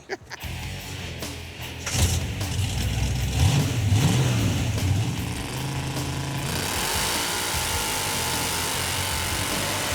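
A 700 hp Hemi-powered Gremlin on a Model A chassis roars loudly, its engine revving up and down in surges before settling into a sustained hard-running blare with tire and wind noise.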